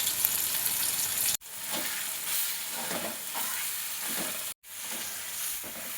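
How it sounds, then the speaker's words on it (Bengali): Ginger-garlic paste fries in a hot pan and is stirred, giving a continuous close sizzle with soft scraping strokes, briefly cut off twice, with no voices. "3 থেকে 4 মিনিট মতন ভালো করে আমি আদা রসুনটা কষিয়ে নিয়েছি।"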